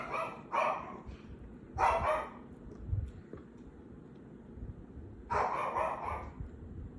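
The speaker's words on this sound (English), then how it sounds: "Pardon my little pooch in the background there." A small dog barks in the background near an open window, in three separate clusters of sharp barks spaced a few seconds apart, moderately distant with quiet room noise between.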